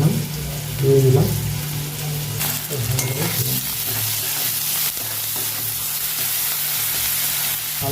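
Onion, garlic and tomato fry in a pan for thin Bengali dal, giving a steady close sizzle with stirring scrapes and a brief louder burst near the start.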